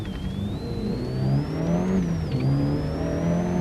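A four-wheel-drive rally car screaming down a road toward a junction on the Isle of Man at the 1991 Manx International Rally, its close high-revving engine whine climbing steadily with a brief dip at a gear change.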